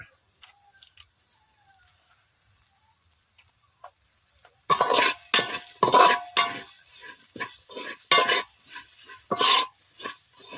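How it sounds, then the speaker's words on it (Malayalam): Curry leaves hit hot oil in a pan for a fish curry masala, then are stirred with a spoon, giving sharp scraping strokes and light crackling after a near-silent opening. "നമുക്ക് അല്പം കറിവേപ്പില ഇട്ട് കൊടുക്കാം"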